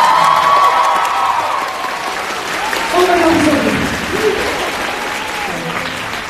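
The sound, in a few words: audience applause and cheering for Amber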